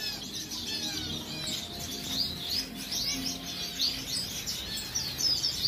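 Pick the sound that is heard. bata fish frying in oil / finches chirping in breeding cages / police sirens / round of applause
finches chirping in breeding cages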